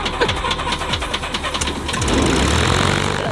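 Small airplane engine on the way to Catalina Island, throttling up from a knocking, pulsing idle to a louder, steadier roar in the final second, close and prominent with no talk.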